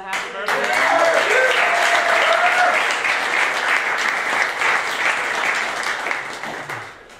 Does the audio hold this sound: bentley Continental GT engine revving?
no